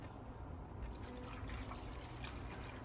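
Liquid poured from a spouted carton into a cooking pot, a soft continuous trickle and splash at close range, steady throughout with no talking.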